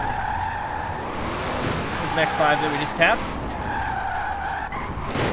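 Tires squeal as a car drifts in Forza Horizon 4, a steady tire screech with engine noise underneath, with someone talking over it.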